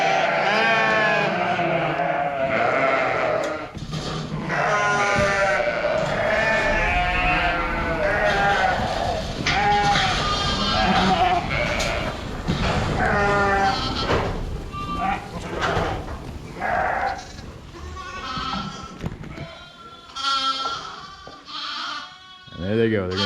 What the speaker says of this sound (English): the lambs know that the adults are about to go outside